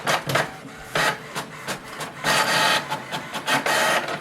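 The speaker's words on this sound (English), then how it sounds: "Now wait for the printer to print." An HP Envy 6055e printer printing a copy, loud and close, with rhythmic mechanical whirring and paper-feed bursts that repeat and then run longer near the end, with no talking.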